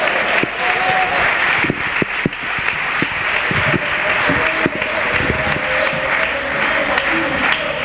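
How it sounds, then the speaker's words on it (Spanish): Stadium crowd at Estadio Martínez Valero applauds to celebrate Elche CF's promotion, a sustained roar of clapping mixed with cheers, individual sharp claps popping out nearby, and a faint voice lingering through the ovation. "un aplauso."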